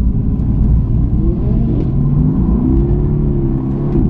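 A car engine rumbles deep and steady, pitch rising and falling gently as it revs under load, close and loud with no voices.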